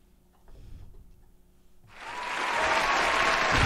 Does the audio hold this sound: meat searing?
no